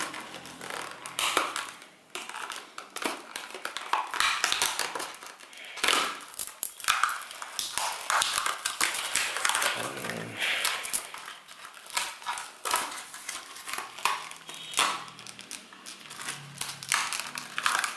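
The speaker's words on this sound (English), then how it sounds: "let me use the unboxing knife and cut through" An unboxing knife cuts and rips through the cardboard packaging of a Transcend USB 3.0 card reader, giving close, busy crinkling, scraping and tearing noises in irregular bursts with no talking.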